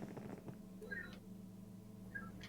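A cat meows twice, short and fairly faint, over a low steady hum with brief talk at the start.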